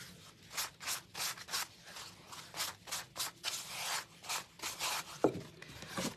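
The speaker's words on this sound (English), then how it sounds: "I'm just going to take a piece of paper towel and get the dust off" Quick, repeated rubbing strokes of a paper towel wiping sanding dust off a surface, soft and close, in an uneven back-and-forth rhythm.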